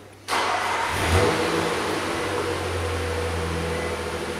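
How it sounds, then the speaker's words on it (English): A car engine cranks and catches at the start, then settles into a steady, low idle hum that continues throughout, close by. "And start the engine."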